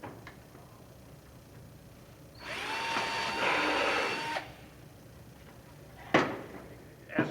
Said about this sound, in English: And then I will drill a vent hole.